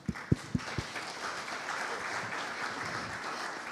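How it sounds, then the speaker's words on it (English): An audience applauds panelists at the MedTech Malta 2023 conference, opening with a few distinct sharp claps before settling into a soft, steady, fairly distant patter of applause. "Please join me in giving our panelists a round of applause."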